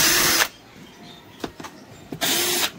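A power screwdriver removes screws from the back of a Sony Bravia LED TV, giving two loud whirring bursts at the start and end with a few short clicks and handling knocks between them, close up and without talk.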